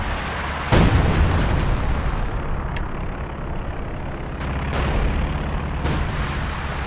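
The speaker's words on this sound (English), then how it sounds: "Light artillery awaits your orders." Light artillery in a video game fires one loud booming shot, followed by a rumbling wash of distant battlefield noise and a few fainter thuds.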